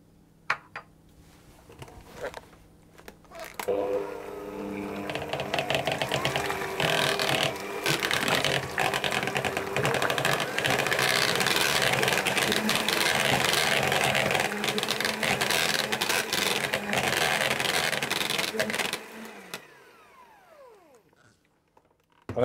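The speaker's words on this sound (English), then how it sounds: "Then I'm going to whisk those together." A whisk beats vanilla extract and a little sugar together in a bowl for a sponge cake with passion fruit mascarpone, producing a continuous fast rasping scrape that runs loud and steady for about fifteen seconds before stopping.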